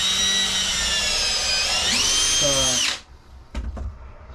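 A power drill drives screws into drywall during a bathroom upgrade, its loud close motor whine held steady and then rising in pitch before cutting off. Brief knocks follow in the quiet afterward.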